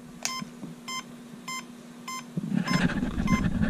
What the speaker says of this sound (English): You get the rapid beep, right?